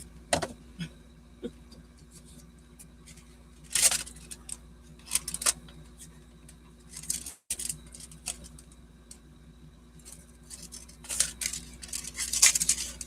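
Big scissors cutting an envelope, with intermittent crisp snips and paper rustles spread across a quiet room, some cuts louder and closer than others, no talking.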